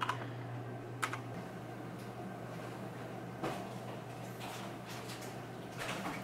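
Computer keyboard keys tapped while typing a password at a PC during a DeepCool Assassin II cooler rebuild, a few sparse clicks over a steady low hum of fans in the room.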